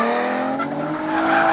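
Cars drift on a Japanese mountain touge course, their tires squealing in a sustained, wavering screech over engine drone, loud and fairly close, with no talk.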